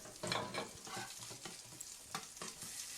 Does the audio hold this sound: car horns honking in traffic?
no